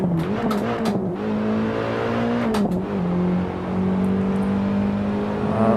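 A race car in the Assetto Corsa racing sim howls at full throttle, engine pitch climbing and dropping with gear changes in a loud, steady whine with tire noise beneath.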